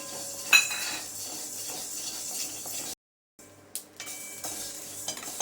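Mustard seeds crackle and splutter as they roast in a pan while rasam powder is made, with close, busy sizzling and sharp pops, a brief silent gap midway, and no speech.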